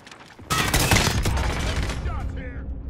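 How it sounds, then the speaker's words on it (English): Loud, sustained rapid automatic gunfire in the Call of Duty: Modern Warfare video game, bursting in abruptly after a quiet moment and rattling on continuously before tailing off slightly. "Shots here"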